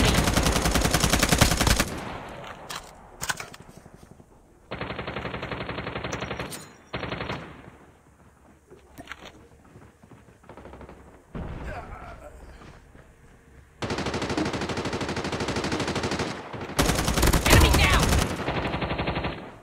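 Gunfire in the mobile shooter Call of Duty Mobile: repeated loud bursts of automatic fire separated by quieter gaps, with players talking over the game.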